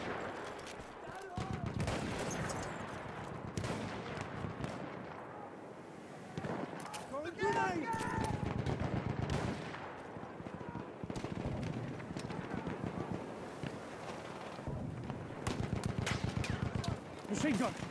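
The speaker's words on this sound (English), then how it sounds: "Machine gun, one of theirs." Rapid enemy machine gun fire in the World War I shooter Battlefield 1, long rattling bursts of close, dense shots that keep going amid battlefield noise, with voices shouting in the background.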